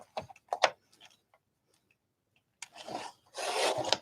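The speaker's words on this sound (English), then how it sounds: "Let's use the trimmer. Let's trim this little bit off if I can." A paper trimmer slicing a small strip off a card sheet: a couple of short sharp scrapes, a quiet pause, then a longer rasping cut close by.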